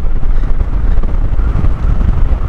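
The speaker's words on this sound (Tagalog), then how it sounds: "Lakas ng hangin." Strong wind buffeting the microphone on a scenic road, a dense, loud, continuous rumbling roar with no pauses and no voices.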